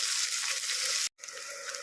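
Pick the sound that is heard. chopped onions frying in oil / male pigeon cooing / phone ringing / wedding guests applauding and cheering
chopped onions frying in oil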